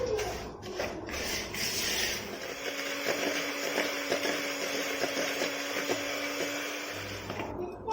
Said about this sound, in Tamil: லைட்டாக ஒரு மிக்ஸ் பண்ணிவிட்டு நம்ம பீட்டர் தான் யூஸ் பண்ண போகிறோம்